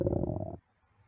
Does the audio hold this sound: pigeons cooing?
no